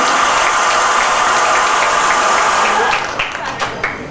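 Wedding guests break into loud, dense applause at a reception party game, sustained for several seconds before thinning into scattered claps near the end.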